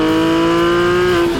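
Naturally aspirated engine of a Porsche 997.1 GT3 RS revving high and steady, a loud sustained mechanical howl that holds briefly then eases off near the end, alone with no talk.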